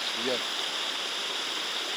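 A cold taiga stream rushing over boulders: a loud, steady, close broadband water roar that fills the whole clip, with a brief voice-like sound near the start.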